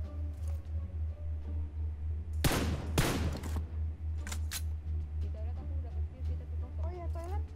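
Two loud M24 bolt-action rifle shots ring out close together in PUBG Mobile, sharp and punchy over a steady low game hum, with faint chatter and short sound effects afterward.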